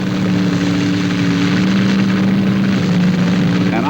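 A top fuel rail dragster engine roars loud and sustained at a 1977 NHRA drag race, a dense, steady howl with a strong tonal drone throughout.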